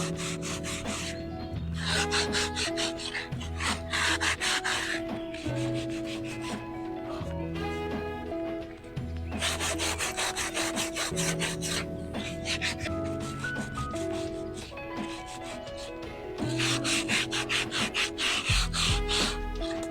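Dried wood filler on a shed is sanded by hand in repeated, rhythmic rasping strokes. The scraping is close and loud, comes in bursts with brief pauses, and runs under faint background music.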